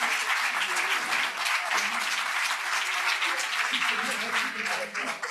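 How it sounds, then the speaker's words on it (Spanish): Audience applause following a conference talk, a steady dense clapping that fills the room from start to finish at an even loudness, with no voices standing out. "Un aplauso."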